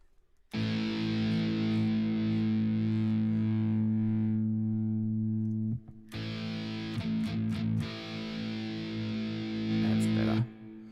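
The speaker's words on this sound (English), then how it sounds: "So these delays are absolutely beautiful." Electric guitar played through a delay effect in the Spark app, sustained chords ringing out loud with repeating echoes trailing behind them, a brief break midway, then more strummed notes ringing on, with no talking.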